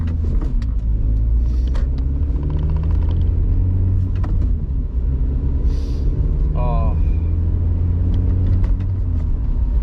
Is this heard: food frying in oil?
no